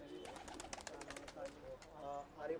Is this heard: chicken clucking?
no